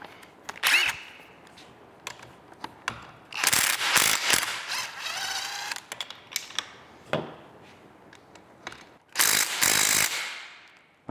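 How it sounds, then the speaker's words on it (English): Ratchet wrench working 15 mm tail housing bolts off a T56 transmission, giving bursts of close, sharp clicking separated by pauses and short clanks of tool handling. "next up is to remove the tail housing bolts"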